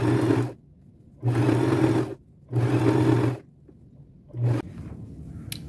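A sewing machine top-stitches the edge of a boho fringe bag in three steady bursts of motor whir with short pauses between, then a brief fourth run, close and alone with no talk.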